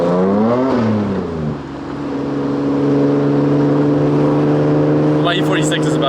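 BMW E30 engine running while driving, a steady harmonic drone with a brief rise and dip in revs early on, continuous and close, with a short burst of voices near the end.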